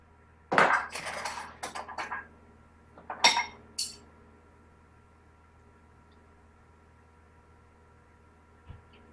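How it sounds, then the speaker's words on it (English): Spoon and fork clink and scrape against a dish while roasted pumpkin flesh is separated from its skin, a cluster of bright metallic taps early on, then a couple of isolated clinks followed by quiet. "I'm going to use a spoon and a fork and just hold it with the fork and then separate it with the spoon."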